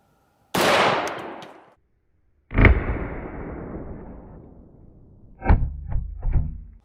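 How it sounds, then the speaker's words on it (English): AR-15 rifle shots fired into a block of silly putty outdoors: one loud crack that rings out, then a second blast with a long decaying tail, followed by a quick cluster of smaller bangs. "Does an AR-15 make it through this silly putty, or does it stop as well?"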